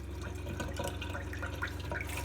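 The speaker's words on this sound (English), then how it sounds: "And now I'm getting hot water in the lines." Hot water runs through the water lines of a 1969 Fireball RV, a faint steady trickle and drip over a low constant hum, close and quiet with no talk.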